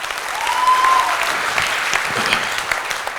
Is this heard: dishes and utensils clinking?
no